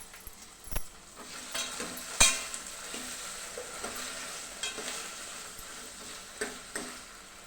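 Cut drumstick pieces fry and sizzle in oil in a pan for sambar, a steady low hiss broken by occasional sharp clinks and stirring knocks against the pan, with no talking.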